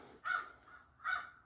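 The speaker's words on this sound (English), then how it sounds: "As the crows outside make an absolute nuisance of themselves" Crows caw outdoors in two loud, harsh calls about a second apart, heard alone over a quiet indoor background.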